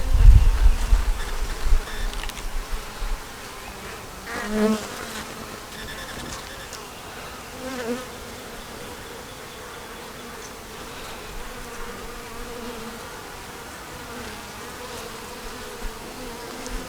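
Honeybees from a captured swarm buzz steadily around frames of eggs, larvae, nectar and pollen in a backyard hive, a low continuous drone with a few louder close passes early on.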